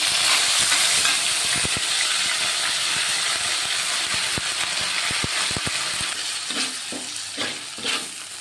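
A ginger-cumin paste sizzles in hot oil in a pan with green chillies and bay leaf, its steady hiss broken by repeated sharp scrapes and clicks of a spoon stirring.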